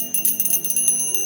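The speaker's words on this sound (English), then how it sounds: "little bells," Small bells used in a healing session ring with bright, clear, high tones, several quick strikes in a row that shimmer and sustain, close and fairly soft, with no voices.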